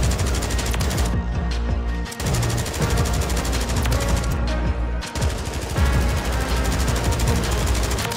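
A Bruen MK9 light machine gun in the Warzone 3 video game firing long, loud automatic bursts, with two brief pauses between sustained volleys.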